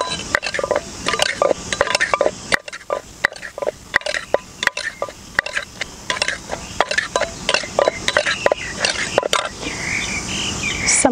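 Spicy Thai cucumber salad with tomatoes being gently mixed at a beach, a repeated wet squishing and stirring rhythm close by, with no talking over it.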